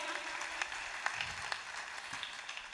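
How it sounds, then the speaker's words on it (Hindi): Faint, steady audience applause honouring a singer at a Hindi poetry gathering, a soft wash of many hands clapping throughout, heard from a distance with a few sharper claps standing out. "एक बार उनके सम्मान में तालियां बजाइएगा।"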